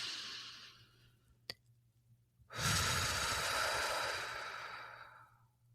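A single deep breath during a guided healing meditation: a soft, faint inhale followed by a long, loud, close exhale that slowly fades, with no talk.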